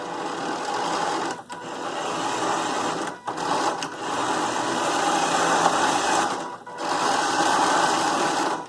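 An electric motor drives a 3D-printed gear to turn a Star Wars Chopper droid dome on a 14-inch lazy Susan bearing, a steady whirring hum that runs in several long stretches with short pauses between.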